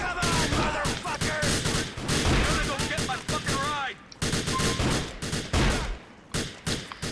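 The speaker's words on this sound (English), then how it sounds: "This shotgun has some pretty good range, but its fire rate is pretty low." Shotgun fire in Grand Theft Auto: The Lost and Damned, loud repeated blasts spaced fairly slowly amid a chaotic gunfight with other gunfire, engine noise and shouting voices.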